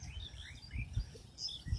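Myna birds calling near a pond in rural Mirsharai, Chittagong, with soft scattered chirps and tweets at a moderate distance over a low rumbling background.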